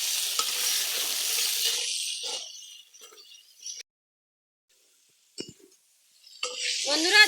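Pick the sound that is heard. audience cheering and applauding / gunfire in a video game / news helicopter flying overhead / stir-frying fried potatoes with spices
stir-frying fried potatoes with spices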